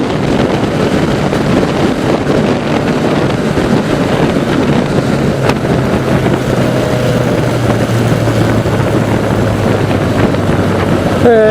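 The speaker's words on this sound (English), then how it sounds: "Pretty windy out here." Strong, constant wind roar buffets the microphone while riding a 1988 Yamaha FJ600 sportbike at speed, masking a low engine drone underneath.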